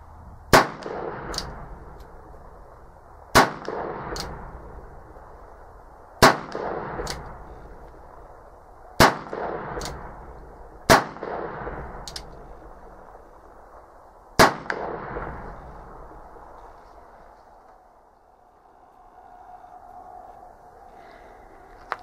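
Six loud shots from an 1858 New Model Army .44 revolver fire outdoors, spaced a few seconds apart with a faint echo after each, then the firing stops and a quieter stretch follows.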